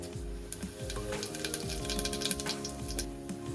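Shahjeera cumin seeds dropped into hot oil and ghee for a sprouts pulao, a crackling sizzle with small pops and light ticks against the pan, close and steady, no talking.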